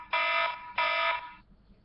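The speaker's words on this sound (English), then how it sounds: "my alarm's going off" Two short, loud electronic alarm blasts in quick succession, each a harsh buzzing tone lasting about half a second, then quiet.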